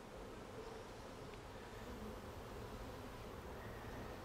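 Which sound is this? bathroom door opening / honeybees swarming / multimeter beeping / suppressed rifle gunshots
honeybees swarming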